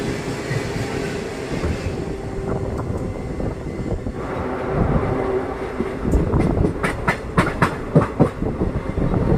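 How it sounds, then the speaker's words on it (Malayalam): Gandhidham–Tirunelveli Humsafar Express, a long-distance train, rushing past on the adjacent track, a steady loud roar of wheels and carriages swelling into rapid clickety-clack rail-joint beats near the end, with no voices. "ട്രെയിൻ നമ്പർ 20924 ഗുജറാത്തിലെ ഗാന്ധിധാമിൽ നിന്നും തമിഴ്നാട്ടിലെ തിരുനെൽവേലിയിലോട്ട് പോകുന്ന ഗാന്ധിധാം തിരുനെൽവേലി ഹംസഫർ എക്സ്പ്രസ് ആണ്"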